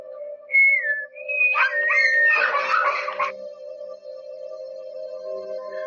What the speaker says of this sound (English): he doesn't like it when we whistle